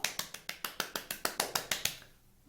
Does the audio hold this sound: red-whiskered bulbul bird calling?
no